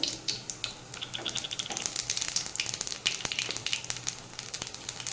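Black cumin seeds crackle and sizzle in hot mustard oil in a heated kadai, a steady, close, dense hiss broken by sharp pops, with no voices.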